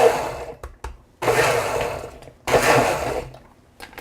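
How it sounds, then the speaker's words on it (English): A kitchen blender purees ingredients until smooth, running in three loud whirring bursts separated by short pauses. "You want to puree it until it's smooth."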